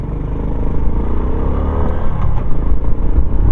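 A stock Honda XRM 125 Fi motorcycle with a 15/35 sprocket setup accelerates hard toward top speed, its engine note loud and close with a steady rising drone and wind rush.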